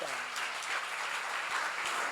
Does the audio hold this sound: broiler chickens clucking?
no